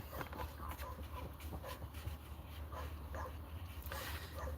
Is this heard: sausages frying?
no